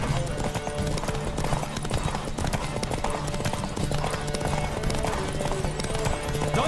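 Roach the horse gallops steadily in The Witcher III, rapid rhythmic hoofbeats pounding close and loud over a game music bed, with no talking.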